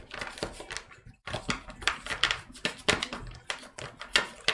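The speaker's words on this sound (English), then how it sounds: "Going to shuffle these cards." Tarot cards riffled and shuffled by hand in a quick run of crisp papery flutters and snaps over about four and a half seconds, close and fairly clear with no voices.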